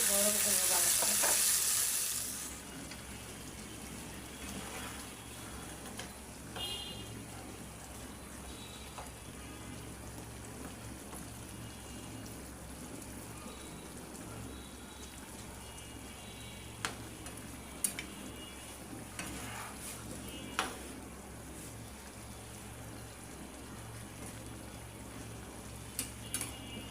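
Leftover Eid curry is reheated and stirred in a pan, giving a long even sizzle after a brief loud hiss at the start, with occasional soft clinks of the spoon against the pan.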